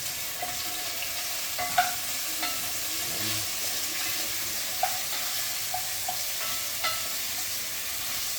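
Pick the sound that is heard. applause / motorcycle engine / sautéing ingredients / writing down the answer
sautéing ingredients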